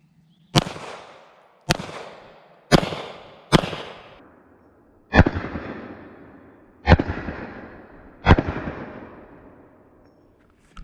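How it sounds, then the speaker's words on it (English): Seven sharp, loud gunshots from a Sig Sauer P320 Compact pistol with a Wilson Combat grip and Armory Craft trigger, firing full-power 124 grain Remington ammunition. The shots come at uneven intervals, each with a reverberant decay. "we're shooting full power, 124 grain ammo"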